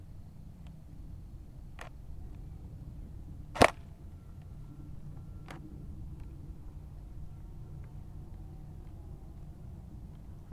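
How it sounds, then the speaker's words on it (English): An S&T G36C airsoft electric blowback rifle fed from a KWA M4 magazine, firing a few sharp single shots on semi-auto, one loud crack standing out over a quiet indoor background. "So now we're going to do a quick test with the KWA M4 mag on semi-auto."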